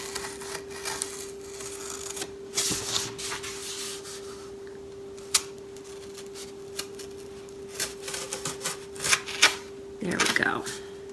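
A craft blade is drawn along the back of a foam piece, making faint, intermittent scraping strokes close by over a steady low hum.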